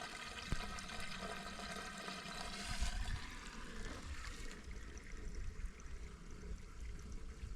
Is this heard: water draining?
yes